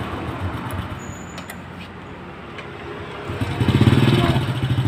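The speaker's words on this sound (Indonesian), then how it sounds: "Coba Mas, di selah sekali engkol bisa hidup enggak? Jos, coba digas." Motorcycle with an AC ignition fault, kick-started and then revved, a low idling engine rumble that swells into a louder throttle burst near the end, with a faint high tone and background noise.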